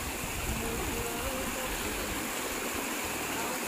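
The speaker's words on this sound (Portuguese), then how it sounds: "Correndo o riacho na frente da minha casa" A stream swollen after heavy rains rushes past in front of a house, a dense, steady roar of running water that stays close and constant throughout.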